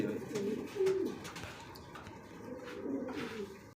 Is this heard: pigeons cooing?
yes